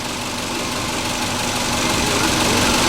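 A Subaru engine runs steadily after a fuel pump repair, a close, even mechanical hum with a faint tonal whine and slight vibration that grows a little louder over the few seconds, with no talking.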